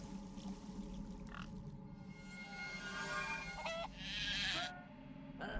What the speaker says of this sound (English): Plus there's a sheep here too.